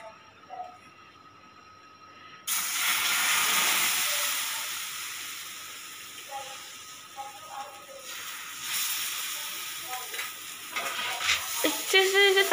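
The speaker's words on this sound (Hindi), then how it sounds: "अब हम सेकने के पहले इस तवे पर थोड़ा सा ऑयल डालेंगे और फिर उस पर हम अपना ये बैटर डालेंगे।" Besan cheela batter hits an oiled tawa with a sudden loud hiss partway through, settling into a steady close sizzle with small scraping sounds toward the end.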